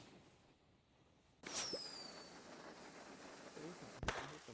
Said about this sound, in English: A couple of fireworks.